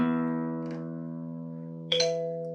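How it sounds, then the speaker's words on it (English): A classical guitar string rings and slowly fades while a tuner app gives a short electronic confirmation tone near the end, sounding clearly over the sustained note, with no talking. "when it's in tune, the app will give you that little tone there to tell you that it's in tune"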